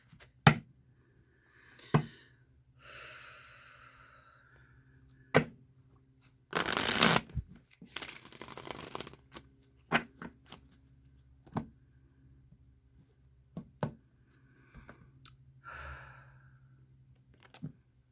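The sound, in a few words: tarot cards being shuffled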